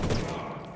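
A short, loud burst of gunfire from a volley in Ghost Recon Wildlands. The blast hits at once and fades quickly into a dull, noisy tail.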